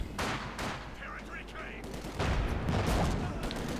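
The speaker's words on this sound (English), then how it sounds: "Panzer 4 taking a hit as well there from a field gun." Company of Heroes 2 battle: rapid gunfire bursts crackle, then a heavy field gun round slams into a Panzer 4, the thick rumbling impact swelling loud and holding to the end.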